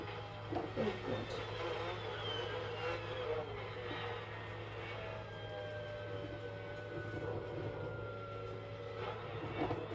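Racing car engine in the Assetto Corsa video game, a continuous whining drone with rising and falling tones as the car accelerates and shifts, steady and fairly loud throughout with no talking.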